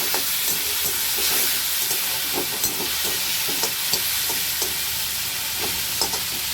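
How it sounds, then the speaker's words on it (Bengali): Spice masala with ginger and a splash of water cooking in a pan for a potato, pointed gourd and pumpkin curry, a steady hissing sizzle broken by regular scraping taps of a spoon being stirred, no one speaking. "এবার আমি মশলাটা কষাবো, তার জন্য যাতে না আদাটা ঝরে যায় সামান্য একটু জল দিলাম।"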